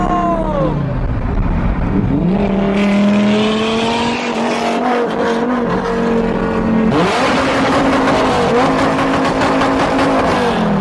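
A Bugatti roars loud and close, its engine climbing through repeated revs and gear shifts as it accelerates hard, with sweeping pitch rises and a constant heavy exhaust drone throughout.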